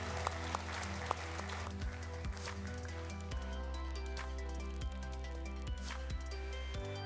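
An audience at a company's centenary event applauds in a continuous patter of clapping, heard over a steady background of music with low, sustained tones and occasional thumps.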